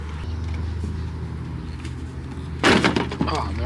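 A tail light housing on a Toyota Sienna is pried loose with a sudden sharp plastic crack and rattle near the end, loud and close, after a stretch of low background hum.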